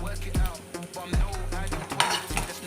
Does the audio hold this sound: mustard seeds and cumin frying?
yes